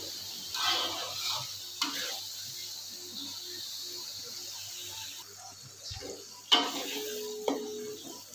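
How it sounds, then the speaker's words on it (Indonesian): Spice paste stir-fries in a pan with a steady low sizzle, broken by occasional scrapes and clanks of the utensil, and a voice talks briefly over it. "kita tumis bumbunya. Kita tumis hingga kadar airnya berkurang dan benar-benar matang."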